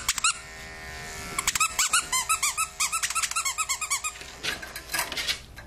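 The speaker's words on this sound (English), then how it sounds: "this is the time you need a squeaky" A squeaky toy squeaks in a rapid run of short, bright, fairly loud chirps during a difficult grooming of a blind, deaf, matted dog, with a brief squeak early on and an electric clipper hum underneath.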